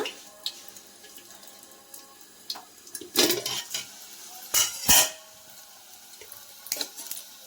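Eggs fry in a pan that is shaken now and then: a soft background sizzle is broken by several sharp, scraping bursts of movement, close by.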